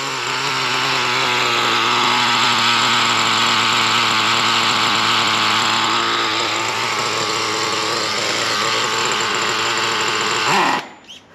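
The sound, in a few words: Traxxas T-Maxx nitro RC truck engine running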